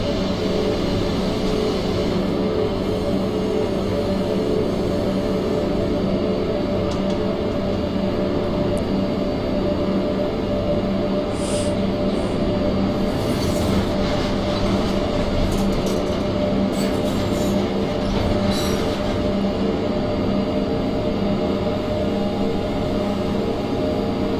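An OBB 1116 electric locomotive runs on the Semmeringbahn in Train Simulator 2016 with a steady, dense rolling rumble and hum that never lets up, plus faint occasional high squeals and clicks.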